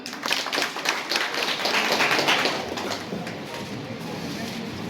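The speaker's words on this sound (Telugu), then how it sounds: "big claps" Audience clapping at an outdoor political poster release event in Gandlapenta, a dense burst of applause that swells and then gradually thins out, with voices mixed in.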